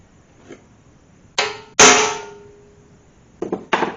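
A hammer drives a small center punch into metal on an engine swap project, giving a few sharp metallic strikes: one light tap, two firm ringing blows, then two quicker taps, all close and clear.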